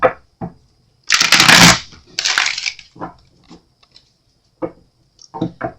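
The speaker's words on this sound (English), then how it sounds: "do a little shuffling here." Tarot cards are shuffled close up in two bursts of crisp riffling, with soft taps and handling noises around them.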